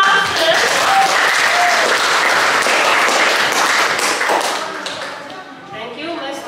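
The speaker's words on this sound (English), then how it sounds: "Keep applauding." A classroom group claps steadily for a reading performance, dense close applause that tapers off near the end as a voice begins to speak.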